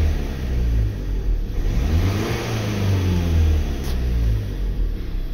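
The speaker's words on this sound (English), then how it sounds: "If I rev it, we should see a change." A Nissan Qashqai with a boost fault revs up and falls back, its engine note swelling and sliding in pitch with a steady low rumble underneath, close and loud throughout.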